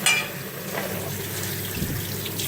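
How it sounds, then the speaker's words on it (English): Cold water rushes and splashes over sticky rice-flour noodles as they are rinsed, a continuous hissing, gurgling stream that stays loud and fairly close. "dump out the noodles and rinse through the cold water"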